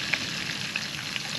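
Kangkung (water spinach) frying in a pan during outdoor cooking, giving a steady, continuous sizzle with a few brief crackles and no talk.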